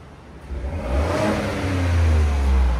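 A 2021 Ford F-150 with the 3.5L EcoBoost V6 on its stock dual exhaust revs with a deep, steady low rumble that builds gradually over a few seconds, close by and with no talking.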